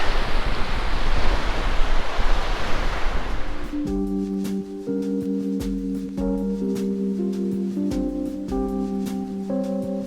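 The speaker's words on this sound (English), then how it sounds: "it is a little breezy out on the point here" Wind gusts across a lakeside point in Michigan, a loud broadband rush that eases after a few seconds, leaving a softer steady breeze with faint tonal hums and ticks.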